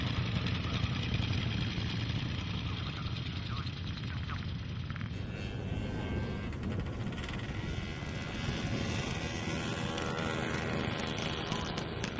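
A 1903 veteran motorcycle engine runs on a smooth track at a Brooklands centenary event, a steady mid-pitched drone with rattling mechanical texture, heard fairly close with a voice talking over it.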